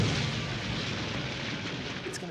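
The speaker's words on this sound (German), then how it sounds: "Über 1 Milliarde Autos, Busse und Laster explodieren rund um den Erdball." Massive explosions of cars, buses and trucks in a doomsday scenario, rendered as a dense, continuous rumbling roar that stays loud throughout with no break.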